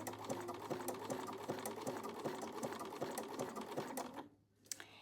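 Sewing machine stitching down fabric appliqué, a steady rapid mechanical clatter with regular ticking beats, close and fairly quiet, stopping near the end.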